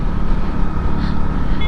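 Strong wind buffeting a rider on a Hero Splendor motorcycle during a South Indian coastal ride in Kerala, a loud, constant rushing roar with low rumble, heard alone without talk.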